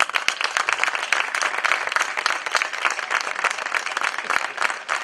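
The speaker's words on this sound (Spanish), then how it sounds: "También Rocío, quiero dedicarle un aplauso" Festival audience at a San Juan night proclamation applauding, dense steady clapping from many hands filling the whole stretch with no voices on top.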